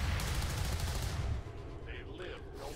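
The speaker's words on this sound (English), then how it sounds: "Mark's got the Overwatch shot." A single Overwatch gunshot in XCOM 2 cracks out loudly, trailing into a rumbling echo with game ambience and faint sound effects following.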